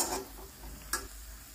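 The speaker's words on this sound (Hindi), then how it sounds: "तो इन्होंने सौते करना शुरू कर दिया।" Spices sautéing in a pan for Kumaoni bhat ke dubke, a soft steady sizzle with a couple of brief stirring scrapes, close and quiet with no talk.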